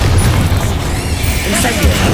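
Confringo fire-blast spell explosion in the Hogwarts Legacy video game: a loud, dense, continuous booming blast filling the short clip with rumbling low end and crackling highs.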